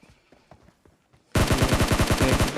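Rapid burst of automatic gunfire from a PUBG Mobile match erupts after a quiet stretch of soft movement sounds, loud and close, with a steady rattling rhythm of a dozen or so shots.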